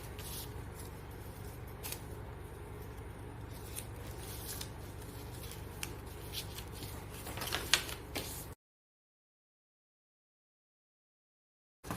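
Scissors snip through fabric while cutting out a sewing flare, a steady close rustle of cutting for several seconds that ends abruptly in silence.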